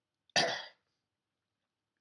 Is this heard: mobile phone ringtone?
no